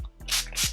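Two short hissing bursts of a spray bottle misting keratin and green tea restructurizer onto hair, close and quiet, with a soft pause between them.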